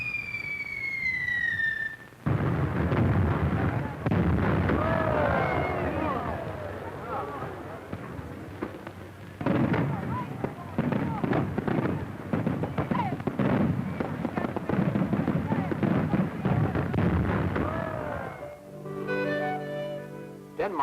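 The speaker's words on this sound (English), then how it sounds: "Night in Tivoli brings colored lights and fireworks, a 4th of July celebration every night." Nighttime fireworks over Tivoli Gardens in Copenhagen in 1950: a rising whistle gives way to a long run of sharp crackling bursts and pops, fairly close and dense, then fades out at the end.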